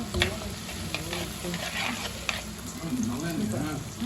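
Mustard seeds, cumin and onion fry in hot oil with a continuous crackling sizzle and scattered pops, while a voice speaks faintly underneath.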